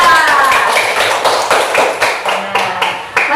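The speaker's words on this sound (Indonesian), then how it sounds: "tepuk tangan buat kita" A group of people clap their hands together in a classroom or training session, producing a loud, close burst of rhythmic, roughly steady claps with occasional voices mixed in.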